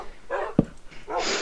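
One short, close dog bark from a tamed dog in Minecraft, set between two soft stretches of background game sound.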